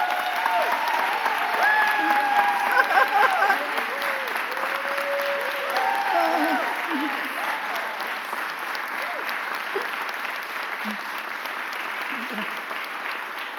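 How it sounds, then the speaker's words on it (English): An audience at a city mayor's press conference breaks into a long, warm round of applause, dense clapping that is loudest early and slowly tapers, with scattered voices and cheers mixed in. "Give a huge, warm round of applause for our teacher, the legendary, living legend"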